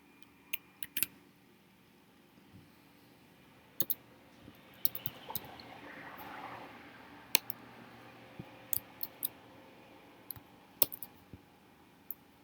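Sparse, scattered keystrokes on a computer keyboard as a random email ID is typed, single quiet clicks separated by pauses over faint room noise.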